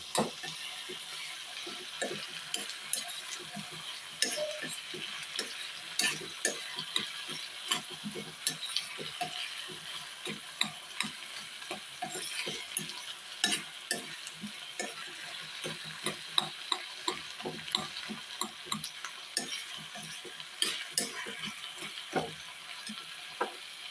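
Tomato and onion sautéing in a pan while being stirred for chicken-leg soup, a steady sizzle broken by frequent scraping strokes of the spoon, close and even throughout.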